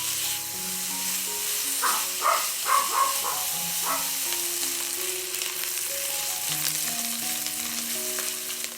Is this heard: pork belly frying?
yes